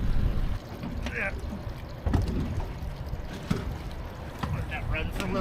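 A boat engine idles outdoors with wind buffeting the microphone, and people talk intermittently over the low rumble.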